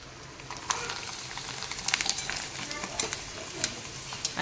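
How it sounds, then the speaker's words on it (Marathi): Murukku, a rice snack, frying in hot oil gives a soft, continuous crackling sizzle with scattered bright pops, quiet and close, as someone talks over it. "आता हे मुरकुल तळत आहे"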